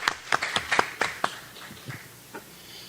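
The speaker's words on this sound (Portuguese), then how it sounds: "Uma salva de palmas para o Kip" A small audience at a roundtable on science and technology funding and public policy claps briefly for a panelist. A handful of sharp, uneven claps comes first and quickly thins to a few scattered taps before fading out.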